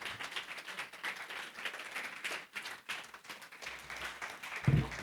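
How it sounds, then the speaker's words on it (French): A lecture audience claps to welcome invited guests at a talk by Dr Maurice Berger, moderate and fairly even applause that thins briefly midway before resuming, with a thump near the end. "Je vous demande d'applaudir nos 3 invités quand je vous les présente"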